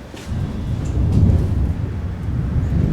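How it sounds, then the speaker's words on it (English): Serious thunder rolling outside during a thunderstorm, a deep continuous rumble heard from indoors in a workshop, building slightly and holding steady with no talk. "Some serious fucking thunder going on out there."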